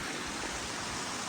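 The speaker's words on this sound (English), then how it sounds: "Beautiful waterfall here." A waterfall beside a mountain trail roars as a steady, broadband rush of falling water, close and loud, with no voices over it.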